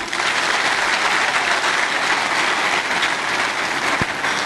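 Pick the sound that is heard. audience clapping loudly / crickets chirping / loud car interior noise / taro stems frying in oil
audience clapping loudly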